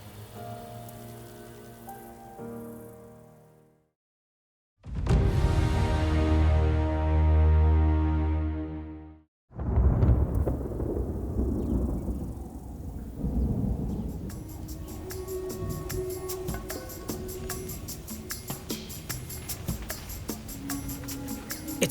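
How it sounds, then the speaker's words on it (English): Rain falls on the savanna with a deep rolling thunderclap in the middle, then steady close pattering of drops on surfaces continuing to the end. "It's now cool and it's raining."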